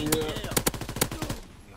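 Rapid shotgun gunfire in Call of Duty WW2, about eight sharp blasts in quick uneven succession at close range, ending abruptly.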